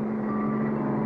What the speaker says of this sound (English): It's an armored car. It's headed right for the bank.